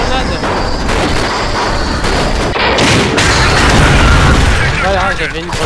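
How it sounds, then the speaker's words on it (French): Grenade explosion and heavy weapon fire in the co-op shooter game Alien Swarm: Reactive Drop, loud booms and rattling shots layered with players talking throughout. "Attendez, j'ai une grenade."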